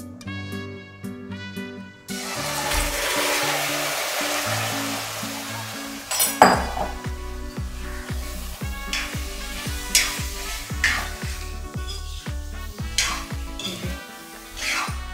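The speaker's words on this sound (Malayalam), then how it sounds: "നന്നായി ഇളക്കി ഉപ്പുണ്ടോ എന്ന് നോക്കി" Rambutan pickle with asafoetida and fenugreek powder stirred in a hot frying pan: steady sizzle with a rhythmic run of spoon clinks and scrapes against the pan, close and clear, over background music.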